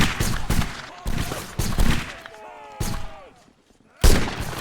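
Rifle volleys in a video game with the 95th Rifles regiment: several sharp, loud bursts of gunfire arrive in uneven clusters, separated by quieter gaps with faint background activity, before a final heavy volley.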